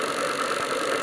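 A rebuilt Adam's motor generator pulse motor runs steadily nearby with a continuous buzzing hum and a faint rattle, with no voices over it.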